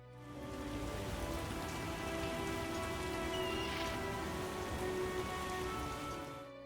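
Steady rain falling in The Witcher video game, a constant close hiss of drops on surfaces with no pauses, fading in and out at the edges.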